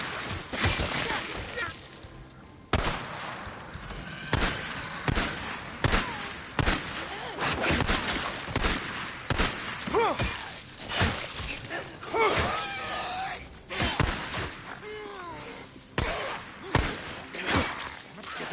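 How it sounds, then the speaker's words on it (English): Rapid gunfire rips through a mine in the video game Days Gone, bringing the tunnel down. Dense volleys of shots mix with crashing, shattering debris in close, loud bursts, and voices are heard between the blasts. "Skizzo, you're bringing the whole mine down on us."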